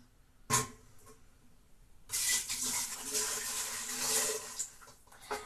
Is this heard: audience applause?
no